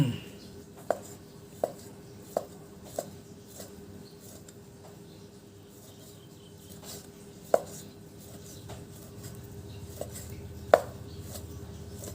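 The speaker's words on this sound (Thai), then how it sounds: "แม่บ้านกำลังหั่นนะครับ หั่นบางๆเข้าไว้" A knife thinly slices pork on a cutting board for Thai stir-fried basil pork, giving faint, scattered taps and knocks against quiet kitchen background.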